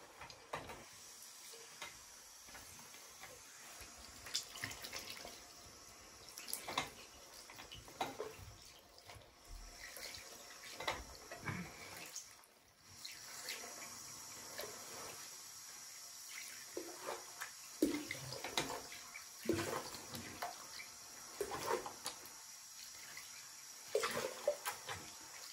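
Cool tap water runs into a bathroom sink while someone rinses their face, a steady quiet splash with irregular louder spatters from splashing, no talking.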